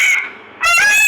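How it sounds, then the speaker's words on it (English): A peacock gives two loud, harsh, honking calls in quick succession, close and clear with a short gap between them. "Peacock."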